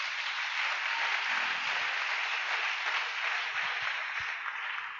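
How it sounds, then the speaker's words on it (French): A church congregation applauding, steady and sustained clapping from a crowd that fills the room evenly for several seconds, without talk. "Est-ce que nous pouvons acclamer le Seigneur?"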